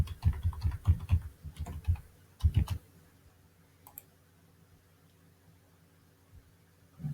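Password being typed on a computer keyboard, a quick run of close, crisp key clicks for about three seconds, then near silence with one faint click.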